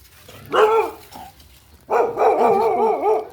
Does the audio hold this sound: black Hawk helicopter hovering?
no